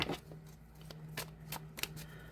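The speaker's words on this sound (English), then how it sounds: "as I was shuffling my deck" A deck of cards is shuffled close up, giving rapid riffling bursts and crisp snaps repeated in a loose rhythm over a faint steady hum.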